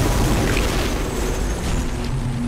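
A bomb goes off in Destiny as a loud, sustained roaring blast that fills the whole moment with a heavy, steady rumble.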